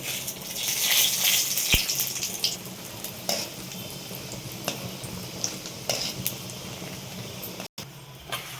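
Chudva ingredients fry and get stirred in a pan, a steady sizzle with scraping spoon strokes and occasional metallic clinks, close and without talk.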